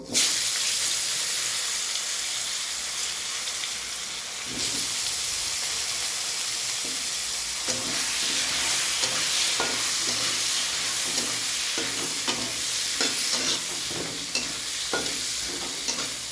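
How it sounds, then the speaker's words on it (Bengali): Potato pieces fry in a wok, in oil left over from frying fish, over low heat, giving a steady crackling sizzle with repeated spatula scrapes and taps, especially in the latter half. "এদিকে আমি কড়াইতে মাছ ভাজার তেলেই আলুটাকেও ভেজে তুলব"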